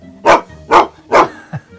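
Dog barking nearby, three loud evenly spaced barks followed by a short softer yip, with no other sound around them.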